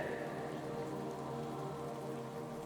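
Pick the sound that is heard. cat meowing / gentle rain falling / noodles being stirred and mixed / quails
gentle rain falling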